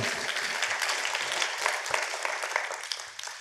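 A conference crowd at Forum PHP claps for Virginie after she finishes her final project, dense sustained applause that tapers slightly toward the end.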